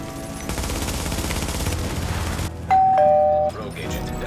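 Gunfire in the shooter game The Division, a dense burst of rapid shots followed by a brief electronic tone and more firing, with voices talking over it.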